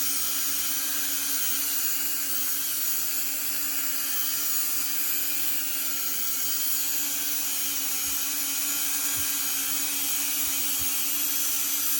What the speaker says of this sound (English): I'm going to sand them now